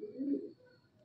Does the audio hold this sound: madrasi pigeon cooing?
yes